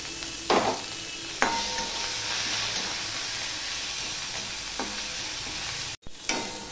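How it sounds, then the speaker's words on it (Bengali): Onion goes into hot oil after the tempering spices for a vegetarian taro root curry, setting off a sudden loud sizzle that settles into a constant close frying hiss with a couple of stirring bumps. "ফোড়নটা হয়ে গেলে আমি সবার প্রথমে পেঁয়াজটা দিয়ে দিচ্ছি"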